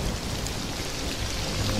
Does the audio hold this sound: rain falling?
yes